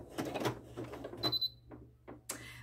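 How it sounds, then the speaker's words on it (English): A Singer QS 9960 sewing machine sounds its warning alert after the presser foot is lowered with the buttonhole lever left up, a short high beep amid soft mechanical clicks and room noise. "That is the alert that shows me that I forgot to put the buttonhole lever down."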